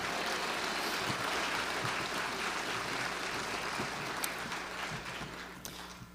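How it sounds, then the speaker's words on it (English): Another round of applause from the crowd at an Excellence in Education awards event, steady clapping held at a fairly even level, thinning slightly toward the end. "Let's give them all another round of applause"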